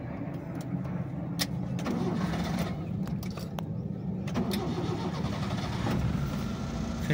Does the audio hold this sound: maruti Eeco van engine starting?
yes